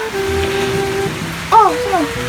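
Steady rain falls on a surface, a soft continuous hiss with a low drone beneath, while voices speak briefly near the end.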